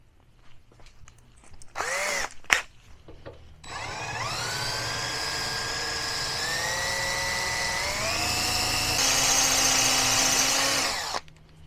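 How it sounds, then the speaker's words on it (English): A power drill whirs steadily for several seconds after a few brief clunks, its pitch rising slightly as it bites into hard metal, enlarging a hole under a seat pan, loud and close. "drill that hole bigger."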